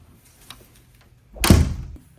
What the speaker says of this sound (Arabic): حيدي بالك شويه نسد الباب